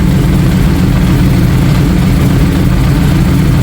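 A rebuilt, previously wrecked 2017 Yamaha R1 motorcycle engine idles at about 1,000 RPM on its first start, giving a steady, loud, close mechanical rumble with no voices over it.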